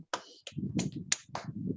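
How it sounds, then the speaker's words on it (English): A handful of sharp, separate claps from a small English pronunciation and vocabulary class, spaced unevenly over two seconds above a low murmur of room noise. "Clap for Christy also. Clap."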